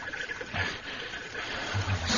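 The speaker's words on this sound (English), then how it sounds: "a small orchid-strewn clearing with a babbling spring" A small babbling spring trickles steadily in an orchid-strewn clearing, a soft continuous wash of running water with faint low burbles, quiet and without a break throughout.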